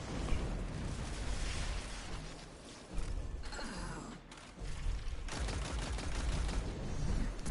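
Nova Bomb explosion in Destiny 2 amid a fight, dense bursts of blasts and rapid gunfire with a brief swelling whoosh and impact in the middle, loud and close, with no talk.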